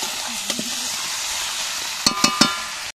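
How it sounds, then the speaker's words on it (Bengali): Chicken sautés (kosha) in a pan over a wood fire, a steady close sizzle with soft stirring scrapes and a quick run of three spatula knocks near the end. "এই যে আমাদের চিকেন কষা চলছে"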